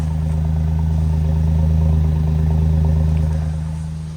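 A car engine idles with a low, steady exhaust rumble, close and loud, holding even throughout with a slight drop at the end.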